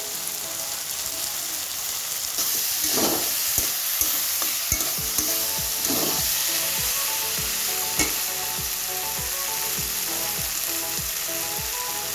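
Raw peas fry and sizzle uncovered in a pan, a steady close hiss with repeated stirring scrapes at a fairly regular rhythm throughout, no voices.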